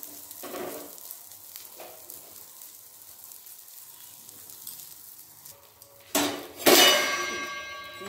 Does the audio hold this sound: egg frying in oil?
yes